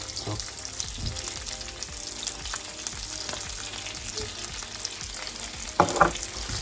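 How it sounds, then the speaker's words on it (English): Fried onion and deep-fried red pepper sizzling together in a pan for chicken pops: a dense, continuous frying crackle with a brief louder stirring scrape near the end. "Now I'm gonna add this fried onion."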